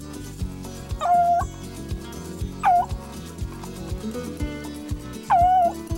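Hunting dogs bay and yelp while chasing a rabbit along a creek, with three drawn-out howling cries standing out over a busy background of shorter yips and clatter.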